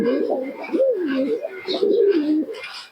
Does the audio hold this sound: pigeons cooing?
yes